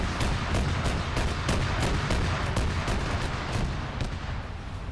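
Gunfire and explosions from a multiplayer PvP military video game burst in rapid, dense, loud volleys throughout, with sharp repeated cracks over a rumbling low background and no talking.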